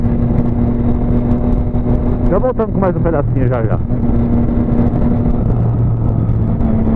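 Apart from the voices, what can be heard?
many motorcycles riding in group ride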